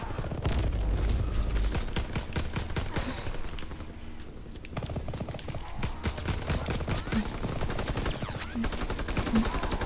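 Pistol shots from a Nazi zombies match sound as steady, rapid cracks throughout, dense and loud over game noise.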